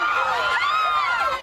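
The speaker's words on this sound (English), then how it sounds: "the cheering," Young women at a sorority rush event cheer and shout together in a loud, close crowd, their high overlapping voices swelling for a moment before cutting off abruptly.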